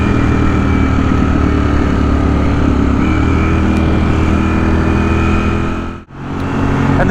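A Ducati motorcycle engine runs loud and close with a steady, throaty drone, cutting out briefly near the end before returning.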